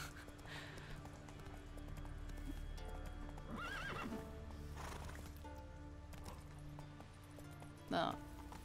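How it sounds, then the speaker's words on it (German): Galloping horse hooves and a sharp whinny near the end in The Witcher 3 video game, steady clip-clop under game music with a loud neigh around the eighth second. "Ich wollte nur auf mein Pferd steigen."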